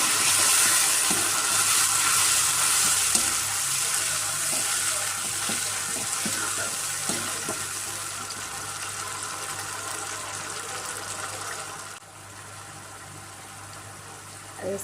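Steady hiss and crackle of oil sizzling in a frying pan as tomatoes go in while dal is cooked, a continuous close frying sound with small pops and no talk over it.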